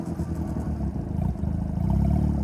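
A Honda Rebel motorcycle engine runs steadily at idle on its first ride out, with the choke in use. It gives a close, continuous low mechanical rumble and no voices.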